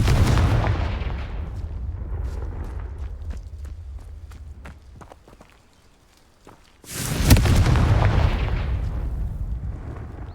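A Confringo fire-blast spell explodes in the video game Hogwarts Legacy with a deep, booming roar, followed by scattered sharp cracks, a brief lull, and then a second loud rushing blast.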